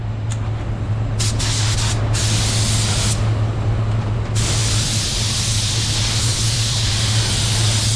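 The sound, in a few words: spray gun applying clearcoat paint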